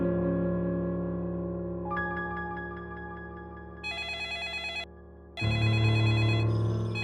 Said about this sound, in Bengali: আরে এত রাতে আবার কে ফোন করছে?